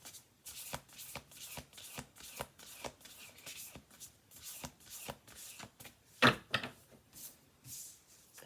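Oracle cards shuffled in steady, close riffling bursts, with a brief sharper clatter as cards drop onto a table; no talking.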